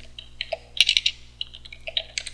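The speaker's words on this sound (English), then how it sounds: "let's type in vi space" Quick, irregular clicking of keys as a command is typed on a computer keyboard at a terminal, close and fairly quiet, with short bursts and pauses between keystrokes.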